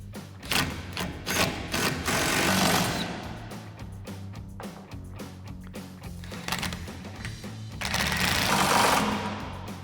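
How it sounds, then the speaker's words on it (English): A 12mm swivel socket on an extension runs down the bracket bolts of a Barricade HD rear bumper on a 2014-2021 Toyota Tundra, with a rapid mechanical whirring chatter rising in loud bursts, close up. "we're going to run these down with our 12mm swivel socket and extension"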